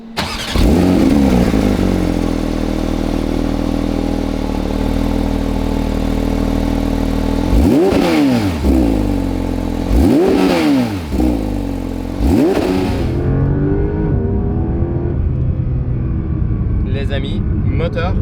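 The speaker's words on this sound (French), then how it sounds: "moteur atmosphérique, 4 litres, 510 chevaux, 470 Nm de couple" A 2022 Porsche 992 GT3 with a naturally aspirated 4-litre engine revs loudly while driving, rising and falling through several sharp throttle blips, with a steady engine drone between them and a voice talking over part of it.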